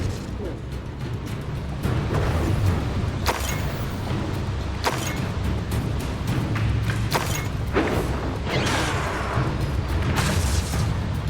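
Repeated Bombarda explosion spells go off during a duel in Hogwarts Legacy, a run of heavy booming thumps and blasts over a constant low rumble, with a voice present.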